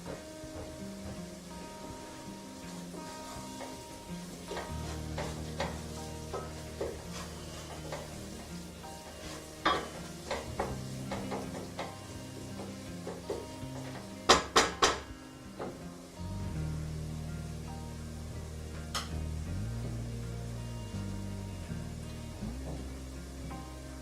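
Flour toasting in a pan for lentil soup gives a soft, steady sizzle, with a spoon scraping and tapping against the pan in irregular bursts and a few sharp clinks partway through.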